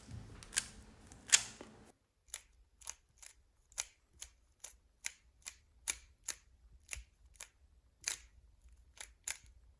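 A 3x3 speed cube being turned one-handed, with crisp, quick plastic clicks in a steady run of about a dozen evenly spaced turns after a rougher, louder burst of handling at the start.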